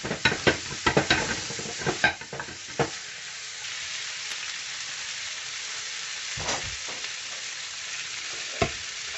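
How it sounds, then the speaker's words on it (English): Chicken jalfrezi with charred vegetables sizzling steadily in a hot pan, a spoon scraping and stirring in quick bursts at first, then a continuous close frying hiss with an occasional scrape. "Just giving it a little stir just to make sure it's not catchy on the bottom."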